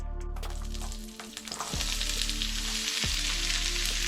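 Vegetables sizzle hard in a hot pan with a dense, continuous hiss. The hiss briefly dips as they are stirred, with a couple of scraping knocks from the pan.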